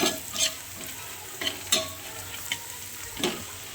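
Brinjal roasting in a pan with turmeric and salt, a soft sizzle broken by several sharp spatula scrapes and stirs at uneven intervals, close with no voices.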